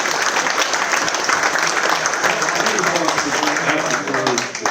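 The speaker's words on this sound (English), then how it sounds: "That deserves a round of applause." An audience at a drainage industry awards event breaks into sustained applause, a dense wash of clapping at steady volume with voices faintly mixed in beneath.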